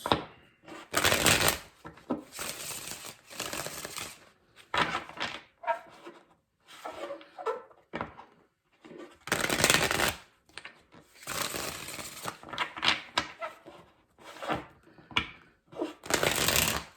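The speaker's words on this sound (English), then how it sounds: "Let's get 3 more shuffles for Aquarius." Tarot cards are shuffled repeatedly in quick, crisp riffling bursts separated by short pauses, close and fairly quiet, with no speech.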